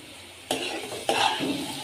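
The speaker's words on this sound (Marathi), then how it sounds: "तो मी प्लेटमध्ये काढून घेत आहे." Cooked masala with cashews, for paneer butter masala, is scooped out of a kadai onto a plate with two distinct scraping strokes. The sound is close and fairly quiet, with no talking.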